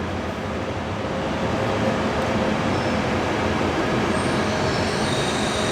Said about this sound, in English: So there goes the train